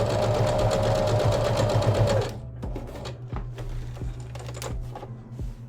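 Sewing machine back stitching a fabric face mask, a rapid loud mechanical whir for about two seconds, then stopping, followed by quieter clicks and handling of fabric.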